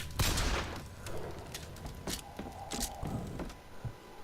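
Gunfire in the video game Bioshock Infinite: a rapid run of sharp shots and impacts, some in quick bursts, moderately loud amid game background noise, with no speech over it.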